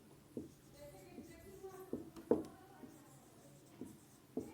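A teacher writes class 12 physics notes during a lesson on magnetic fields, the pen or chalk making faint, scattered strokes and taps. It is quiet, with some soft speech-like sound in the background.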